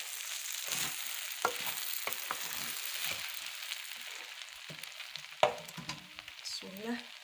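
Rice fries in a pot with a steady, close sizzle, broken by sharp stirring scrapes and a brief louder burst that fits water being added, with no talking.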